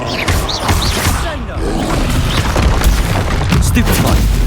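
Spell blasts and impacts in a Hogwarts Legacy duel, loud booming bursts and crackling hits in quick succession, with a voice calling out over them.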